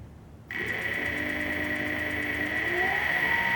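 A Wen 3427 benchtop lathe switches on and runs steadily for carbide-tool turning, a sudden start settling into an even, close motor whine with a faint rising tone near the end.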